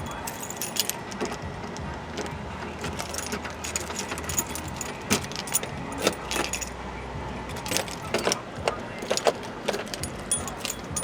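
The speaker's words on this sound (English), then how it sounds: "You don't know how to unlock a door." A ring of keys jangles and clinks in irregular bursts while a door is being unlocked, fairly close but soft, with faint vehicle rumble in the background.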